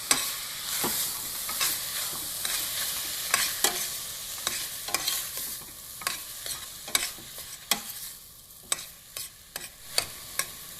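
Red curry with chicken and bamboo shoots frying in a little oil, a soft continuous sizzle broken by repeated sharp scraping and clacking stirs, close and moderately quiet.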